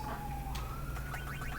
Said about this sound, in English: Sorry about the siren outside.